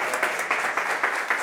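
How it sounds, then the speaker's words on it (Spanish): A small group applauds briefly, a short, close burst of clapping with a few distinct hand claps pulsing through. "un aplauso"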